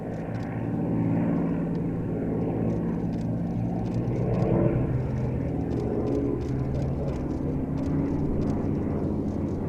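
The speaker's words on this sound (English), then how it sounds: "Pulling up into a three-ship loop with that P-51 on his left wing and the Corsair on the right." P-38, P-51 and Corsair propeller warbirds pull up into a three-ship formation loop at an airshow, a steady distant engine drone that rises and falls gently, with no voices.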